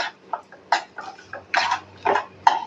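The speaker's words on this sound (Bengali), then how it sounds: "দিয়ে আমি সুজিটাকে ভেজে নেব।" Semolina (suji) is added to a pan with raisins and dry-fried, heard as about six short, gritty scraping strokes of a spoon, close and fairly loud, with quiet gaps between them.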